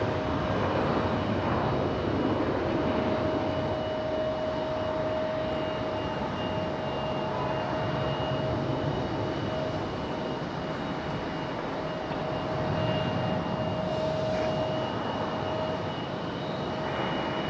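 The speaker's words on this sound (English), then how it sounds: "JetBlue a little bit wobbly there on departure, fighting that wind a little bit" A JetBlue airliner departs Raleigh-Durham International in gusty wind, a steady distant jet roar with a faint whine holding for the whole stretch, moderately loud and unbroken.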